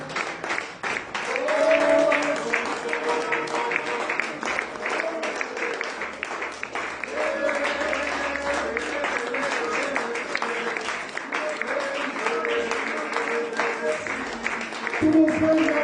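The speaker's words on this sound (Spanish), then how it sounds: "Den un aplauso a Cristo esta noche" Congregation clapping at a Wednesday evening church service, a sustained patter of hands mixed with voices and a sung melody running over it throughout.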